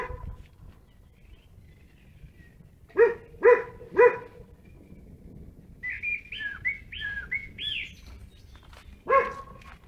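A dog barks three times in quick succession at a fenced property posted as guarded by dogs, then once more later, with bird chirps in between against a quiet outdoor background.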